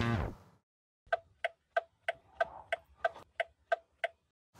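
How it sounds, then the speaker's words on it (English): A car turn signal ticks in an even, steady rhythm, about a dozen crisp clicks in a row, heard close and clearly against near silence. "That was the sound of the turn signal."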